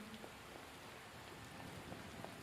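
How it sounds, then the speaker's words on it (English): Steady rain falls in the open-world video game Skyrim, a faint, continuous hiss with scattered soft drop ticks and no voices. "I'm not sure it actually stopped raining"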